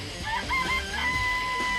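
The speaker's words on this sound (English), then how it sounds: "There's some chickens in the chicken coop." Chickens in a coop in the Danganronpa video game give a few short, faint clucking calls in quick succession, with a brief crow-like note among them.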